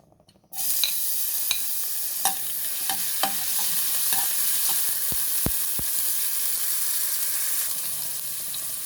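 After a brief moment of quiet, oil for pork ribs kaldereta bursts into a loud, close sizzle that holds steady, broken by a few sharp clicks and taps of a utensil against the pan.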